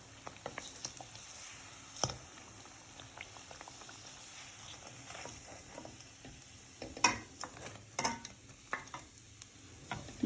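Bread snack deep-frying in oil bubbles with a quiet, steady seething hiss, overlaid by scattered pops and clinks and a few louder spattering bursts near the end, with no talking.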